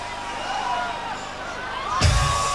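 A festival crowd at a live concert in Germany cheers and roars, a distant babble swelling into a loud burst of shouting and applause near the end, with a voice speaking over it at first.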